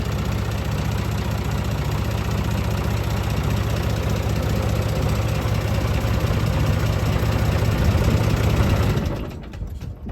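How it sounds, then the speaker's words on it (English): A diesel tractor engine running just after a cold start below freezing, with no glow plugs: a loud, steady, close idle with a rough knocking rhythm that holds for several seconds, then drops away near the end. "No glow plugs, no nothing. Below freezing, cranks right up."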